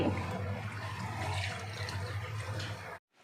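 Steady rush of running water, such as from a tap, while nilagang baboy is being cooked; a continuous, fairly loud flow for about three seconds that then cuts off abruptly.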